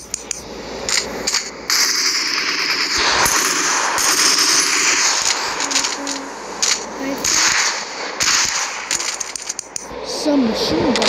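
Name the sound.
machine gun firing in a video game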